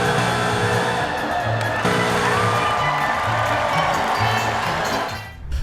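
A large audience at an America's Got Talent performance roars in a dense, sustained wall of crowd noise, loud and continuous, before dropping off sharply at the end.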